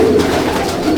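A red-flecked male Madrasi pigeon coos up close in a loft, one loud, low continuous throaty coo filling the short moment, with no speech.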